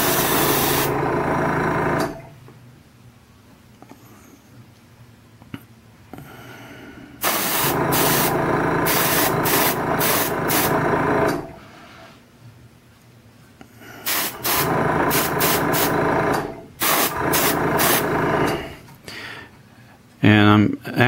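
An airbrush hisses in bursts while light coats of paint go onto a model car (General Lee), loud close spray blasts of a few seconds separated by quieter gaps.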